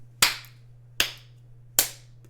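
Three sharp, separate hand claps, well spaced and loud, with silence between them and a steady low hum underneath.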